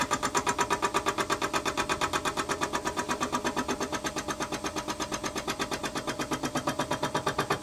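A milling machine with a fly cutter set to about a 70mm diameter spinning at 500 RPM, facing a tooling plate: a steady, rapid rhythmic chatter with a regular pulsing beat, close and loud, with no talk.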